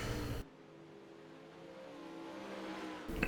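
Dirt late model race car at Volusia Speedway during a Monsters of Dirt Pro Late Models qualifying event, a loud sustained engine roar that briefly drops and then swells back up as the car passes.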